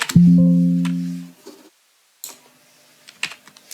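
Numbers typed on a computer keyboard, then the Enter key pressed: a short tonal hum at the start, then a handful of separate close key clicks spread over a few seconds, with no voice.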